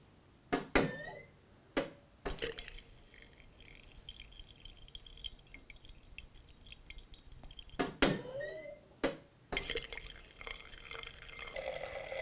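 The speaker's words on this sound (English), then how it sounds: "it's gonna let the wine come out and dispense" A Winetell machine pushes a needle into a wine bottle and dispenses wine into a glass, heard as faint trickling and dripping punctuated by a few sharp clicks and taps, alone without talk.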